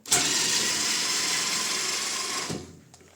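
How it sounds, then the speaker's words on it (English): A power driver whirs steadily for about two and a half seconds, loud and close, as screws are removed while taking apart a jammed clothes dryer, then cuts off abruptly into quiet. "We need to unscrew this too."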